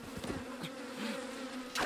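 Bees buzzing in The Legend of Zelda: Breath of the Wild, a steady droning insect hum with wavering pitch that holds throughout, with a brighter burst of game sound at the very end.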